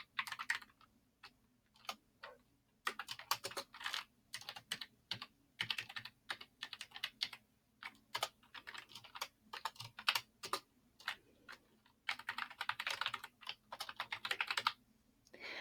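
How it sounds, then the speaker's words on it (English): Steady typing on a computer keyboard, quick bursts of clicking keystrokes with brief pauses between runs, close and fairly quiet. "So I'm just going to type this in."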